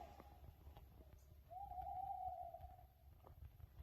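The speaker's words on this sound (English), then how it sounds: "That's an owl. It's got to be an owl." An owl hoots at night outdoors in Sicily, a faint distant tone, one short hoot followed by a longer drawn-out call over quiet background hiss.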